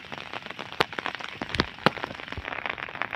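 Rain falls on a farm field during a storm, scattered drops striking close by in irregular crackling taps over a soft, steady patter.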